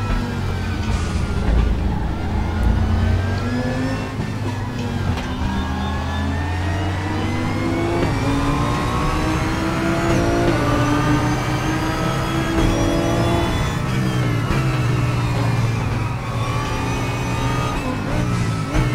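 Race car engine in the RaceRoom racing game, revving loudly and continuously with rising and falling pitch as it works through gear changes and corners, steady and close with no talking.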